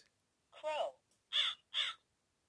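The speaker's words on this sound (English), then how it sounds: "The crow flaps its wings." Three loud, harsh crow caws, close and alone: one longer, rougher call followed by two sharp, evenly spaced calls.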